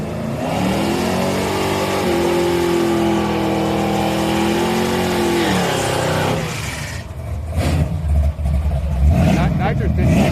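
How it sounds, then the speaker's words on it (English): A five-speed Mustang revs hard at a grudge race night, its engine note climbing and holding as a steady loud drone before dropping off into crowd noise and a commentator talking over the track. "Five-speed Mustang in the right lane."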